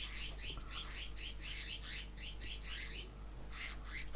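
Birds chirp in the Minecraft video game, a quick rhythmic series of bright repeated tweets that stops briefly and then comes back, faint and alone.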